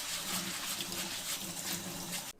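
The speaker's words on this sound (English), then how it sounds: "And I like to wash my rice until my water runs clear." Water running and splashing while basmati rice is washed, a steady close trickling rush that stops abruptly near the end.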